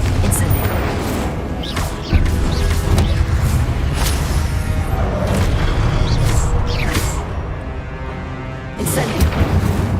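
Repeated spell blasts and booming impacts from Hogwarts Legacy combat, fire and explosive spells cast in quick succession, loud and dense over rumbling game noise, with shouted voices mixed in.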